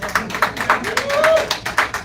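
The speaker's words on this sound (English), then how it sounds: "I can get clap on that" Steady rhythmic handclaps at a village board meeting, sharp evenly spaced claps close by, with a voice sounding over them.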